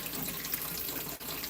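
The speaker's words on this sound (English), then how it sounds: "See if we can get some water going." Water runs steadily from a tap in a continuous close rush, with a brief dip near the end and no voices.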